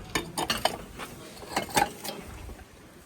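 Ceramic plates clink and knock together a few times as they are handled at a flea market in Kyiv, with short scattered clatters close by and brief quiet gaps.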